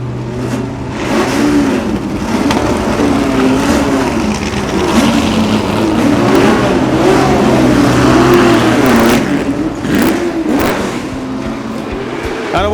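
Ford GT40 race cars roar away from the start of an evening tribute race, a loud, close blend of revving engines climbing in pitch as they accelerate and pass.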